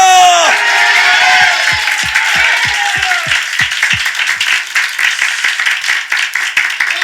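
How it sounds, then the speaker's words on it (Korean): A church congregation claps together during a Sunday morning worship service, a dense burst of crowd clapping that runs for several seconds after a brief voice at the start. "아멘 하면서 박수로 영광"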